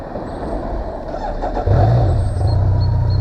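A 1999 BMW K1200LT touring motorcycle with about 31,000 miles fires up and settles into a deep, steady idle rumble, close by, after a quieter stretch of background noise.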